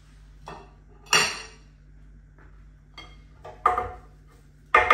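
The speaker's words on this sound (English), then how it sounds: "Very, very quick chopping." A few sharp knife strikes chopping herbs on a cutting board, irregular and close, with short pauses between quick bursts of chopping.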